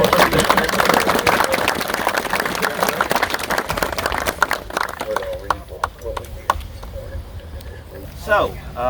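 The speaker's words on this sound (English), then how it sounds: "How about a nice warm round of applause?" Outdoor crowd applause during a guided battlefield walk at Gettysburg, a loose round of clapping that is loud at first, then thins into scattered claps as a voice speaks.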